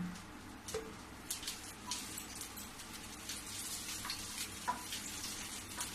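Green chillies fry in hot oil with mustard seeds, a quiet, steady sizzle broken by scattered sharp crackles and pops every second or so in a home kitchen.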